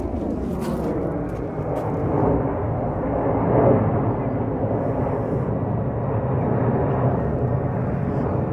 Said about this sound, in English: It's exciting, the jumbo jet.